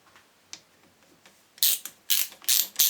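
A ratchet tightening the alternator bolts on a Subaru Impreza during a bearing change: light clicks at first, then several loud, rapid ratcheting bursts close by, with no voices.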